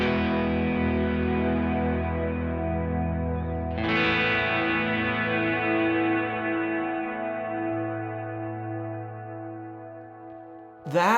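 Ambient guitar played through a Kemper amp with heavy reverb, sustained chords swelling and ringing out in long washing tails, a second strummed chord entering near four seconds, with no talking.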